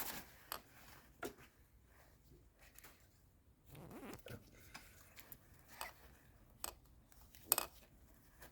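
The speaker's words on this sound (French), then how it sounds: "Il faut le gratter avec un cutter." A utility knife scrapes leftover gasket paper off a two-stroke motocross cylinder in short, scattered, sharp strokes with quiet pauses between, close and fairly faint.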